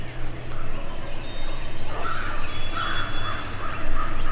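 Several wild turkeys gobble from a hillside at sunrise in early April, distant bursts rising over steady dawn ambience with crows calling nearby.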